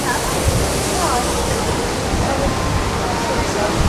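A steady, loud rush of falling water from a waterfall at a themed restaurant fills the space, constant and close, with faint crowd chatter blended underneath.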